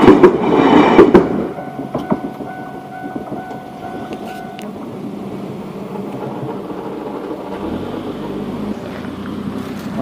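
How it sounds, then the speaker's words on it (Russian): A train rumbling past at a distance near Shizuoka, Japan, a low steady roll with faint rail clatter, after a brief loud burst at the start. "А вон там еще один поезд едет."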